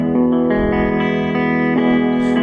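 An electric guitar plays a clean tone through effects pedals, each set around eleven o'clock, giving a loud sustained chord that shifts slightly with shimmering chorus and reverb.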